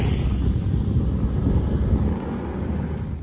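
A motorcycle passes outdoors as a steady, loud low engine drone mixed with wind buffeting, easing off slightly toward the end, with no talk over it.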